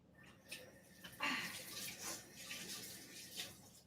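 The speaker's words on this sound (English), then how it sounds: "Now we have clean hands, and we can rinse our hands." Hands rinsed under a running kitchen tap, faint splashing water with a few brief louder gushes, fairly close and without talk.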